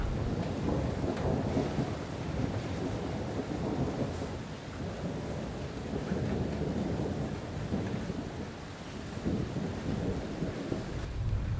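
Steady heavy rain with rolling rumbles of thunder at a volcanic crater outdoors, a dense continuous roar that stays loud throughout with gusty swells and no voices.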